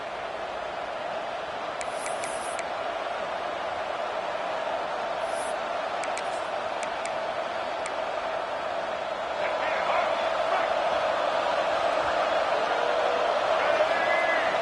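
Stadium crowd roaring steadily at a West Virginia versus Texas Tech college football game, a constant dense wash of distant cheering that swells slightly louder toward the end, with a few faint whistles and shouts poking through.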